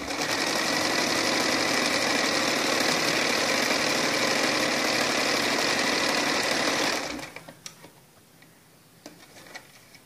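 A sewing machine stitches a blouse with a loud, steady, fast mechanical whir for about seven seconds, then stops, leaving faint clicks and handling noises.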